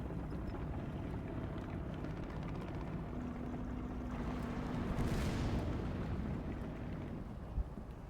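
Tank cannon in a video game fires a single heavy round midway, a deep booming blast rising out of a steady low rumble of engine and wind, then fading back into the background.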